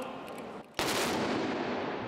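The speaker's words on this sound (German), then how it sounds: "Mit den traditionellen Böllerschüssen unterhalb der Bavaria ist das 182. Oktoberfest zu Ende gegangen." A traditional ceremonial Böller gun salute marks the close of the 182nd Oktoberfest beneath the Bavaria statue in Munich: one sudden loud blast followed by a long rumbling echo that fills the rest of the moment.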